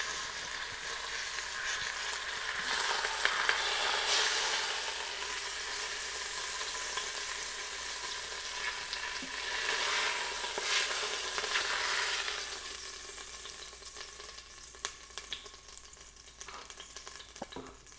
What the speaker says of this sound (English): Now I'll let that saute for a few minutes.